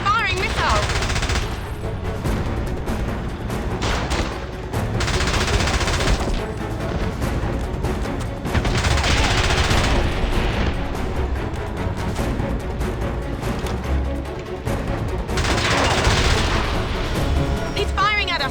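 Enemy gunfire in the James Bond 007: Blood Stone video game: loud machine-gun bursts and heavy booms come in waves, with a voice speaking over the barrage.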